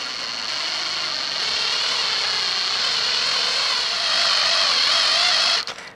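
A power drill with a large drill bit whirs steadily and loudly for several seconds while repairing a Kia/Hyundai engine head bolt, its pitch holding constant before it winds down abruptly at the end.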